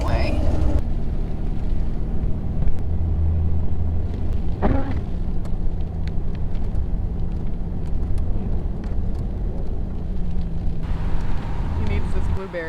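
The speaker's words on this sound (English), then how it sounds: "We are driving through the Smokey Mountains right now." A Jeep drives through the Smoky Mountains, its steady road rumble and engine drone filling the cabin while people talk over it.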